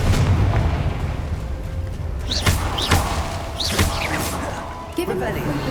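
Confringo fire spell cast in the video game Hogwarts Legacy, bursting in a few loud booming blasts close by over a steady ambient bed, with a voice speaking over it.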